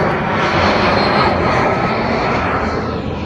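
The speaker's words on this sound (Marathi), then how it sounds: "हा हे बघा, हा विमान आलाय" A fixed-wing airplane flies low over a rooftop where kites are being flown, its engine drone a loud, steady broadband roar that fills the whole stretch without letting up.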